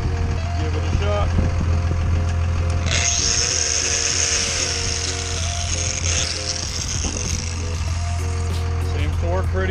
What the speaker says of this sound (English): Got my Milwaukee angle grinder out here. Plug the old Milwaukee in, turn on the inverter